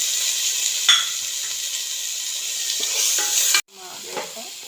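Tomatoes sizzle in a frying pan with ginger, garlic and cinnamon paste while a spoon stirs through them in a few scraping strokes. The frying hiss is steady, then cuts off sharply near the end before a quieter sizzle returns.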